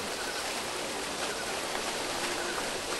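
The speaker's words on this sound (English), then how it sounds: "Waterfall! Let's go on it!" A waterfall in the game Monkey Island 2: LeChuck's Revenge gives a steady, broad rushing wash of water noise, even and unbroken throughout, with no talk over it.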